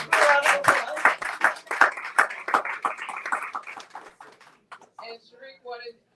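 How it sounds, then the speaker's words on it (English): Clapping from an audience at a book event honoring a former owner of Karibu Bookstore, sharp hand claps fading out over several seconds, followed by some faint talk at the end. "Give us a round of applause."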